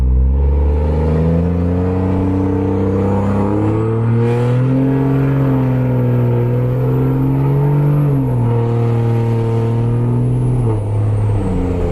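A loud Cummins diesel truck engine revs up hard under full throttle with windows down, its deep rumble climbing steadily in pitch, then dipping and rising again over a continuous roar.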